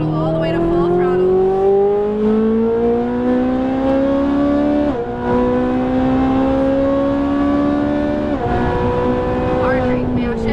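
A Ferrari 458 Italia V8 on a race track pulls hard under acceleration, its loud rising wail climbing through gears with brief dips at two upshifts, heard from inside the car; a driving instructor speaks over it.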